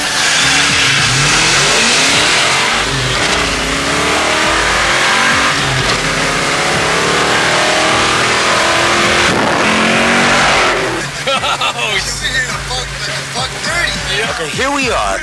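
Backyard-built unlimited race car motors rev loudly and continuously, a roaring mid-pitched engine drone with rising and falling revs that stays close and dominant throughout.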